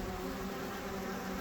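A rescued honeybee swarm, mostly worker bees, fills the air with a steady, continuous buzz that holds at an even level throughout, with no voices over it.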